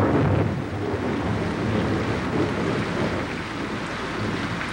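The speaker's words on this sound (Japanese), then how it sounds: "沖縄公園から戻ってきたジャッキーを待っていたのは香港の長い雨でした" Steady rain in Hong Kong, a dense continuous wash of patter with some wind rumble, loud and close throughout with no pauses.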